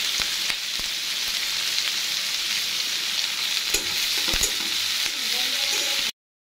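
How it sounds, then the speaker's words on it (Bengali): Onions frying in hot oil, a continuous close sizzle with occasional spoon scrapes and taps, ending abruptly. "কুচি করে রাখা পেঁয়াজগুলো আমি খুব ভালোভাবে ভেজে নেব।"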